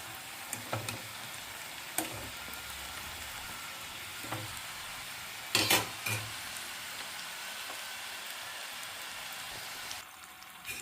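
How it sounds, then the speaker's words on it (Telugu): Pani puri puris fry in hot oil over a low flame, giving a quiet, steady sizzle with a few louder bursts and crackles scattered through, close by with no voices. "వాటిని అసలు ఏమి కదపద్దు, లో ఫ్లేమ్లో ఫ్రై చేసుకోవాలి."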